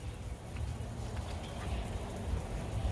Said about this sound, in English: I've got a sprinkler on the other side of that brick wall there, and it's just coming over a little bit